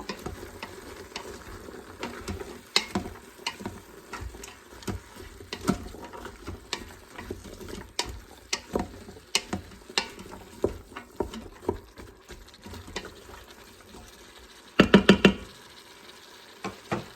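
Spoon stirring cheeseburger soup in a pot, giving irregular scraping taps and soft clinks against a low simmer, with a brief louder cluster of knocks near the end; no talking.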